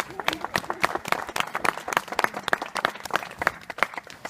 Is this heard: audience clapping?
yes